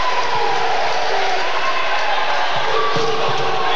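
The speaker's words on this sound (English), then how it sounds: "Berger's clapping, the crowd is clapping" A packed college men's volleyball crowd claps along in a steady rhythm under a loud, continuous roar of cheering, with scattered sharp claps standing out and an announcer talking over it.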